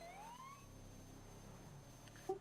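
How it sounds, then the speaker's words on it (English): Emergency siren wails from a truck in a FiveM QBCore game, faint and rising in pitch over a low engine hum, followed by a short electronic blip near the end. "But it's not supposed to have sirens."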